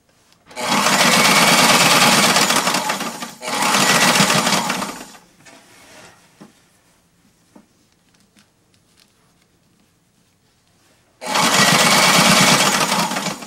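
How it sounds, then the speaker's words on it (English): A sewing machine stitches a linen slipcover in three loud, close bursts of rapid whirring, two back to back early on and one near the end, separated by quiet handling of fabric. "Just gonna crinkle it. And sew over it."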